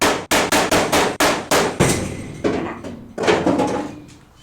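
A rapid series of sharp metallic hammer strikes, about eight quick blows, then a few slower, ringing hits, loud and close.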